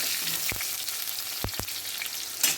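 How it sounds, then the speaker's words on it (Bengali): Tomatoes fry in hot oil for a cauliflower, potato and katla fish curry, giving a steady close sizzle with a few sharp clinks as they are stirred in the pan. "টমেটোগুলো দিয়ে তেলে একটু নাড়তে হয়"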